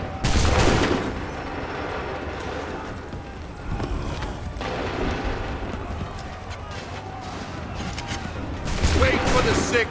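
Musket volleys crackle through a battle in Assassin's Creed III, set at Lexington and Concord, with bursts at the start and end over a steady din of shouting voices, hoofbeats and running feet.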